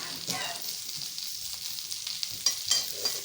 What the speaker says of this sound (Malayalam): എണ്ണ ഒഴിച്ച് ഈ മുളക് മാത്രം അങ്ങോട്ട് ഇട്ടിട്ടുണ്ട്.